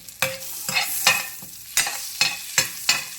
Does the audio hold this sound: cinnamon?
yes